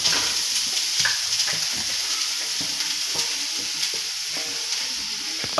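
Grated carrot frying in ghee over a low gas flame for halwa, a dense close sizzle with scraping stir strokes and light clicks throughout.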